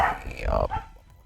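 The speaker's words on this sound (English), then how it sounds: "If you guys can hear the dog barking in the background" A dog barks in the background behind speech, with a few short, moderately loud yelps over just over a second.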